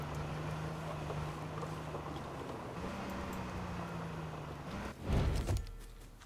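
A car in H1Z1 drives through a town with a steady engine drone and rushing wind that shifts in pitch partway through. It ends with a heavy low thud and rattle, as if the car hits something or lands hard.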